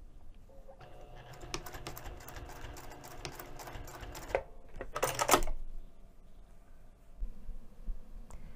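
A sewing machine stitches down a wrist-strap tab on a bag pouch at an eighth-inch seam allowance, running in quick rattling bursts with short pauses between them.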